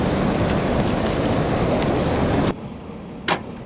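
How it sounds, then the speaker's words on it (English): Strong wind gust roaring against a van parked among trees during a blizzard, heard from inside: loud, dense rushing for about two and a half seconds, then cutting off abruptly, leaving near-silence with one brief bump. "Here we go with that storm. That's a big gust there."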